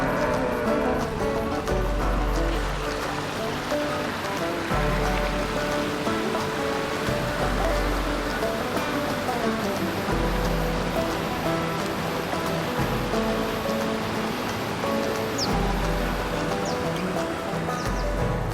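Rainwater flowing into a farm dam during a rain event, a continuous loud rushing and splashing of water up close, with a low rhythmic gurgle pulsing underneath throughout.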